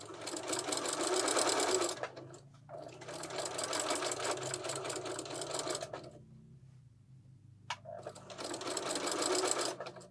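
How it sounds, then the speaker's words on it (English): A sewing machine runs while stitching around a fabric wine gift bag, buzzing loudly and close in rapid bursts that are broken by short pauses, with faint handling noise in the gaps. "then just keep sewing all the way around."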